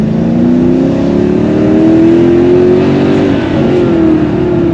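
A Mercedes AMG car accelerates hard, its engine note climbing steadily and loudly from close inside the cabin for several seconds, with no talking.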